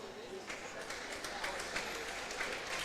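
A crowd at a girls varsity high school basketball game applauds and cheers for an injured player getting back up, a steady wash of clapping and voices filling the gym with a few louder bursts throughout.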